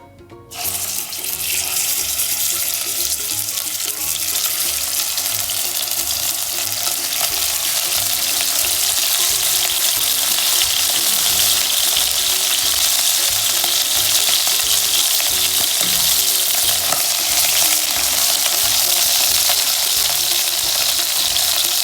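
Meat pieces for Moroccan couscous frying in a hot pan, a loud, dense, continuous hiss like rushing water that starts abruptly and holds steady for about twenty seconds, close up, with no talking.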